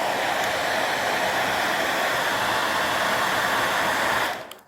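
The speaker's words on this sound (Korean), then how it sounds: "헤어드라이기로 달고서" A hair dryer blows a steady, loud broadband whoosh at a horn-rimmed eyeglasses frame to soften it, running continuously for about four seconds before cutting off abruptly near the end.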